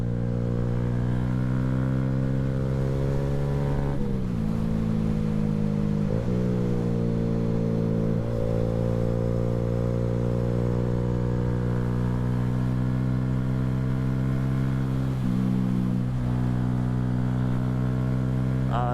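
A Honda Grom motorcycle engine drones steadily on a backroad of twisties, running on cold tires, with a couple of brief dips and rises in revs as the rider shifts; the engine sound stays close, loud and continuous throughout.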